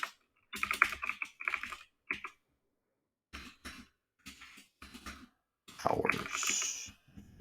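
Close, quick bursts of typing on a computer keyboard while building a website mockup in Photoshop, clustered key clatter separated by brief pauses, ending in a longer rattling run.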